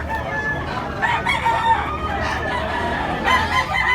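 A yellow-legged bulik stag rooster crows close by in repeated harsh calls with clucks between them. Other fowl are heard faintly in the background of a farmyard setting.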